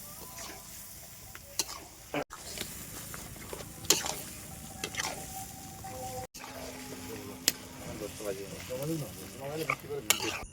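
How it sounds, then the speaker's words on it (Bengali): Duck meat stirred in a pan, a steady close sizzle with repeated scraping and clattering strokes of the utensil, busier and denser toward the end. "তুমি লেড়ে যাও, মাংসগুলো মাখামাখি হয়ে যাবে।"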